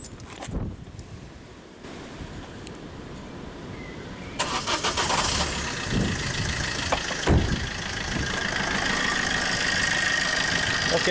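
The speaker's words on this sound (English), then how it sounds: "Let's turn the engine on." An old car's engine cranks and starts, then settles into a steady idle close by, with no voices.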